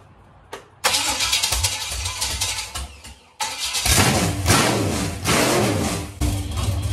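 A V8-swapped lawn mower cranks briefly, catches and roars to life, then revs loudly in repeated surges before settling into a rough idle, close and forceful.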